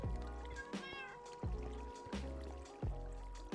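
A cat meows repeatedly in Minecraft, four distinct meows spaced about a second apart, clear and close, over a faint background hum.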